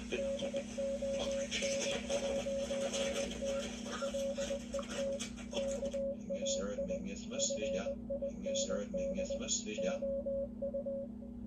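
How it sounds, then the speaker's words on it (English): Morse code beeps, a single steady tone keyed in short and long pulses, playing continuously at moderate loudness with dense background noise in the first half that drops away later. "it plays a string of Morse code"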